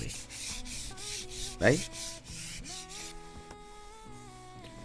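Steady, gentle back-and-forth rubbing of sandpaper by hand on teak wood on a boat, light pressure in an even rhythm, with a brief louder swipe midway; a voice speaks a single word over it.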